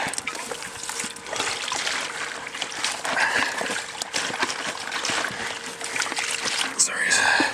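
Fresh water is poured into a backyard chicken coop, trickling and splashing steadily at close range, with a faint chirp or squeak over the top near the end.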